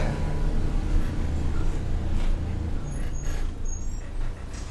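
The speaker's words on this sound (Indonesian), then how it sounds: "Tak lama bis pun berhenti." A passenger bus slows to a stop, its engine rumbling low and steady with faint hissing bursts from the air brakes near the end, no talk.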